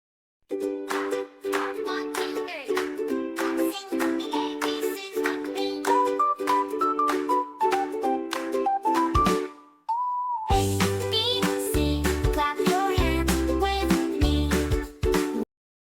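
Bright, cheerful AI-generated kids' song with a bouncy synthesized melody and steady accompaniment, a brief pause, then a fuller section with a driving beat.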